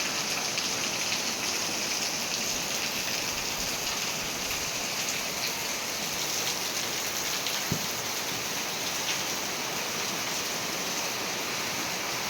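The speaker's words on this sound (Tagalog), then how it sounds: "Grabing ulan ng mga kalangga." Heavy rain pouring down outdoors with some wind, a loud, steady, dense hiss that holds unbroken for the whole stretch.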